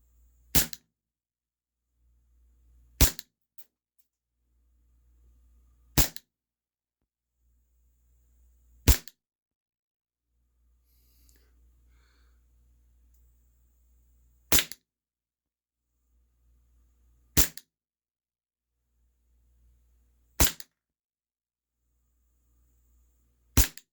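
A WE Tech Bulldog gas blowback airsoft pistol on red gas fires 0.25 g BBs in eight sharp, loud cracks spaced a few seconds apart. Faint low rumbles fill some of the quiet gaps between shots.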